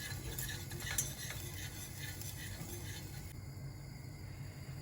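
Whole wheat flour being stirred into melted butter in a pot for a baby's bulgur soup, a steady soft scraping and shuffling with faint sizzle underneath, alone and close.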